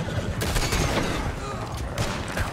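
Rapid gunfire bursts from a Red Dead Redemption 2 shootout crackle continuously and loudly throughout, dense overlapping shots with faint voices mixed in.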